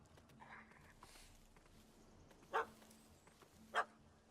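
Two sharp dog barks sound in The Witcher 3, the first near the middle and the second near the end, over a low game ambience with faint background noise.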